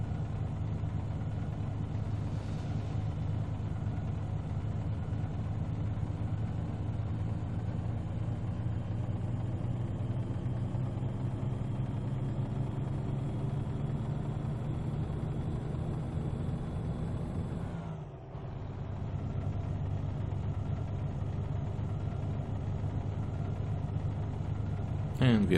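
A log-hauling truck in American Truck Simulator labours up hills at high RPM, a steady, loud low engine drone that rises slowly in pitch, briefly dips near the end, then resumes.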